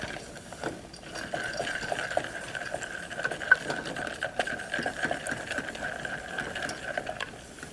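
Almonds and cashews toasting in butter in a pan, a soft continuous sizzle with faint bubbling and occasional light clicks, quiet and close, no voices.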